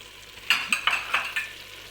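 Spices, ground ginger and pepper, go into a pot for Moroccan rfissa while the contents sizzle and are stirred, giving about five sharp scraping and clinking hits over a soft frying hiss.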